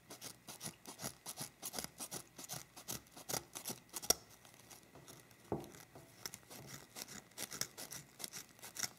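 Scissors snip a triangular notch into a gift basket, giving a quiet series of close, crisp cuts in an irregular rhythm with soft rustling between them.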